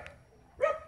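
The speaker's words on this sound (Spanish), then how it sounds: "Es perrito." A small injured dog, hurt in a road accident in Cúcuta, gives one short, sharp yip near the end after a faint yelp at the start, close by against quiet background.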